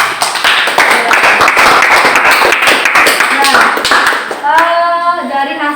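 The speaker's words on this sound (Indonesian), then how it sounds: "Kasih aplaus untuk kelompok" A classroom group claps for a presenting discussion group, dense loud close applause from many hands running continuously before tapering off near the end, with voices talking over it.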